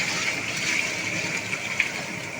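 Water gushing steadily into a large cooking pot for a big batch of chicken yakhni pulao, a continuous close pouring rush with faint splashes and no talk.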